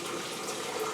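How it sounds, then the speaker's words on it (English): Tap water runs steadily into a canner being filled for a boiling water bath, a continuous close splashing rush over one second with no talking. "Now I'm just going to finish filling up my"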